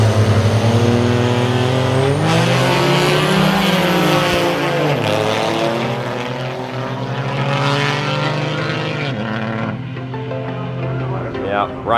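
Diesel pickup trucks, a third-generation and a P-pump first-generation, drag race at the Scheid Diesel Extravaganza, their engines roaring loud and close with rising and falling revs across the run, while a voice talks over them.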